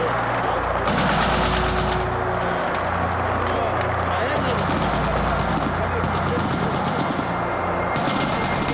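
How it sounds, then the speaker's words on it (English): Gunfire from armor-piercing weapons in Beit Jala, heard as a dense, continuous loud rattle of bursts with heavy rumble, sustained throughout with noisy background. "this is the kind of armor-piercing weaponry that's being used against civilians, innocent civilians"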